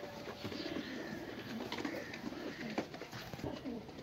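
A pair of Kamagar Golden breed pigeons coo steadily at close range, their soft, low repeated calls rolling on without a break against faint background noise.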